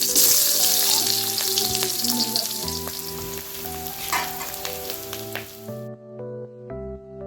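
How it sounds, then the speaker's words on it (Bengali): Onion and bay leaf sizzle and crackle steadily in oil in a pan with occasional stirring, alongside background music; the frying stops near the end while the music continues. "পেঁয়াজটা তেজপাতাটা ভাজা হয়ে গেছে"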